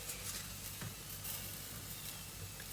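A paratha stuffed with chicken and onion fries on a pan, giving a steady, even sizzle that stays constant and fairly quiet throughout, with no voices.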